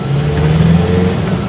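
A Toyota Hilux Tiger pickup with a 3-litre engine drives along with a loud, steady, close engine drone from inside the cab, without speech.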